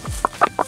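A tame Shamo hen clucks close by, three short, soft clucks in quick, even succession against a quiet background.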